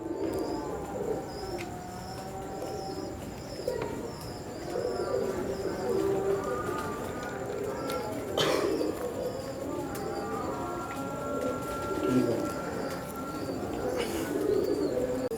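Prince Kamgar pigeons coo in soft, repeated throaty rolls, close by and steady over a background of other birds chirping.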